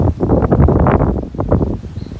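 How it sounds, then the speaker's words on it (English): Strong February wind gusts roar steadily outdoors by a rosebush, a loud, continuous rushing and buffeting with rustling, no voices present. "Most wind back here."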